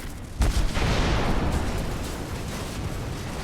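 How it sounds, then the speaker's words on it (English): A cluster of mines detonates all at once down a tunnel, giving a sudden heavy blast followed by a long, rolling rumble that fades slowly. "There was an amazing explosion down the tunnel as every single mine detonated at once."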